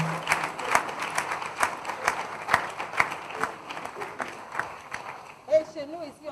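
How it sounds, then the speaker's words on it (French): Audience applause at a 26th wedding anniversary celebration as a bottle of champagne is brought in, fairly close and mixed with crowd chatter, ending with voices and a few shouts. "sous vos applaudissements"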